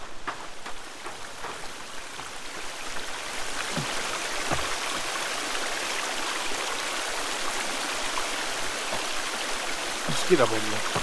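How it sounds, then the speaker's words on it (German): In the video game The Forest, a waterfall in a wooded area gives off a steady, rushing hiss of falling water, even and continuous, with a few soft bumps over it. "Und wir haben hier hinten einen Wasserfall zum Beispiel."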